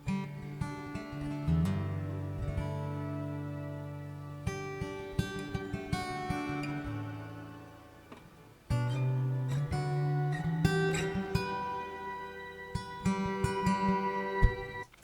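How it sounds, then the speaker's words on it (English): Electric guitar run through the shimmer reverb setting of a Zoom MS-70CDR+ multi-effects pedal, sustained chords with bright octave-up wash and long ringing tails, played alone with a brief dip before swelling again. "Shimmer reverb."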